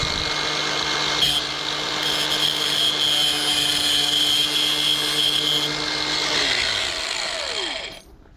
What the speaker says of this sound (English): whenever you go to cut these off with an angle grinder, be very careful you don't hit that boot